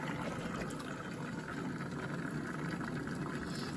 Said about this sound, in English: as you can see, the water's coming out